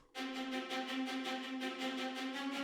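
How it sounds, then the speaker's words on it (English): Synthesized violas hold a single sustained note with a slow pulsing tremolo as a trailer-music stinger, entering after a brief silence and ringing steadily, clear and up close with no voices. "Here are the violas."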